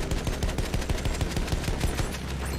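A tail gunner's machine gun on a plane in Battlefield 1 fires a loud, continuous, rapid burst of shots that runs unbroken through the whole stretch, backed by dense rumbling battle noise.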